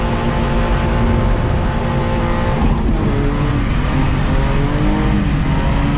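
A car at full throttle while drifting through a corner, its engine roaring loud and steady with shifting pitch as it slides, close and continuous, with no talk.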